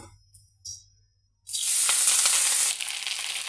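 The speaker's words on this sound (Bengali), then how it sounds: "আর এখন এই তেলের মধ্যে আমি শাক দিয়ে দিব।" Moringa leaves dropped into hot oil set off a sudden loud, close sizzle that holds steady and then eases slightly. It follows a quiet start with a couple of faint clinks.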